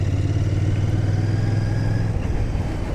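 A 2025 Royal Enfield Bear 650 motorcycle idling nearby with a steady, low, even engine drone that shifts slightly near the end, with no one talking.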